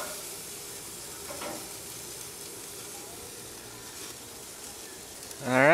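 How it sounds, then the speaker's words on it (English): A bacon lobster burger patty sears in a hot pan with a steady, moderate sizzle and hiss, swelling louder at the very end. "Now that the bacon lobster patty is formed, I took it out of the foil, and then we're just going to do a quick sear."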